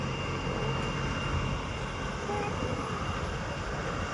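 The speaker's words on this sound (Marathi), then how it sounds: "हे बघ हेलिकॉप्टर बघ, हेलिकॉप्टर बघ." Helicopter taking off nearby, its engine and rotors making a loud, steady, unbroken roar that fills the whole stretch, with voices faint beneath it.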